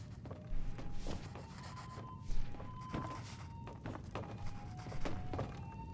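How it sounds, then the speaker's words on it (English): Axe chopping wood in Skyrim, a handful of dull thunking strikes at irregular intervals over a low game background, fairly quiet and without talk. "I'm cutting wood."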